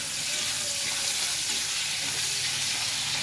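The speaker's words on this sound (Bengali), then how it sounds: "আর এই চিংড়ি মাছ ভাজছি।" Prawns fry in a hot pan at a village cookfire with a loud, continuous sizzle and hiss, close up and steady, no voices.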